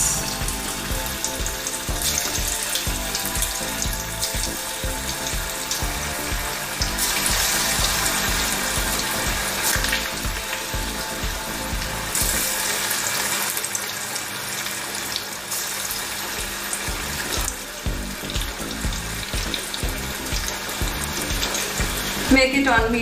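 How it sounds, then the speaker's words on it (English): Steady crackling sizzle of raw banana kofta balls deep frying in hot oil, continuous and fairly loud, with faint running water and kitchen clatter mixed in. "Be careful while frying this."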